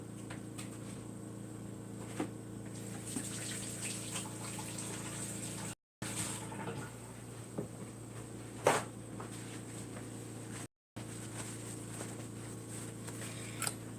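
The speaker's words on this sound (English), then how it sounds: "I need to wash my little hands." Running tap water pours steadily in a home kitchen while hands are washed beneath it, a soft continuous wash with a few brief knocks and clatters, close by and moderately quiet, no talking.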